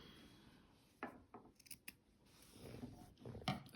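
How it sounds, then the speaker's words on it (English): Scissors trim loose yarn fringe along the edge of a crochet pillow, giving a few quiet, close snips scattered across a soft, otherwise hushed background. "I'm just going to trim these again."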